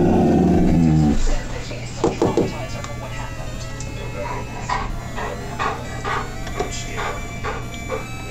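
Brown dog monster in Dragon Quest Monsters 2 gives a loud burst of growling snarl at the start, then softer in-game sounds continue beneath a steady hum.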